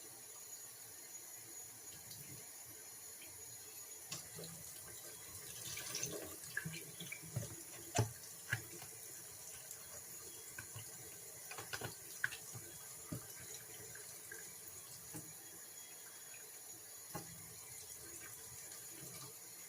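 Tap water running steadily into a plastic egg carton, a soft continuous splash and trickle with a few small knocks and clatters, fairly faint and alone.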